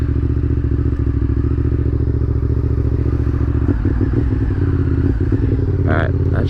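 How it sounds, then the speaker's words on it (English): A Honda Superhawk 996 (VTR1000F) V-twin motorcycle engine runs loud and close with a deep, lumpy rumble, its pitch and character shifting partway through as the revs change, with some clattering at the end. "You can listen to the glorious sound of this V-twin."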